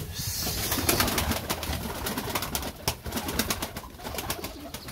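Pigeons in a large coop, a busy flock giving steady soft cooing and fluttering with scattered sharp wing claps and rustles, close and continuous throughout.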